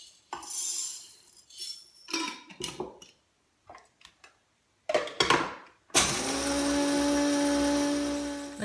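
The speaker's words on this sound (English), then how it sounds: "So just put it in a coffee grinder, of course, and you get to grind it." Coffee grinder grinding dark home-roasted coffee beans, a steady loud motor whir lasting several seconds after some clinking and handling sounds.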